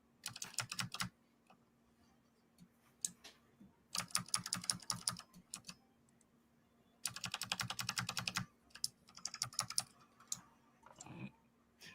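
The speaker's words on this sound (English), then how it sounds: "Is that a mechanical keyboard?" Close, crisp typing on a mechanical keyboard in quick clattering bursts of a second or two, broken by short pauses and a few single clicks over a low steady hum.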